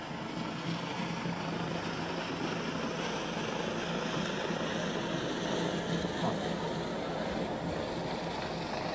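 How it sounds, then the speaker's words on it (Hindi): A helicopter arrives and sets down at an outdoor political rally ground, its rotor and engine roar loud, continuous and close throughout, with no talk heard over it. "मैं पहले ही अनुरोध किया था कि हेलीकॉप्टर से धूल काफी उड़ेगा"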